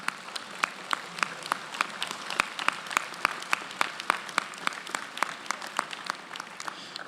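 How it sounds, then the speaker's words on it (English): Applause from a university convocation audience, made of sparse, distinct claps in a steady rhythm throughout, like a modest scattering of hands in a large hall rather than a dense ovation. "You owe Samuel Green a round of applause."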